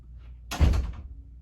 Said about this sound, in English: can you shut that door on your way out?